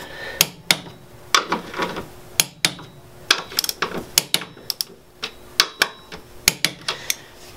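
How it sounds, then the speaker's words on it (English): Repeated sharp metallic clicks from a torque wrench tightening the bolts of a strut tower brace on a car, arriving in irregular quick bursts with short pauses between them, close and fairly loud with no talking. "Make sure you guys are hand threading these in and then using the torque wrench."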